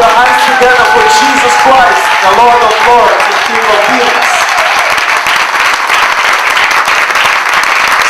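Congregation applause in a church service, loud clapping and cheering voices, with talk and vocal sounds over the first few seconds before the clapping carries on alone.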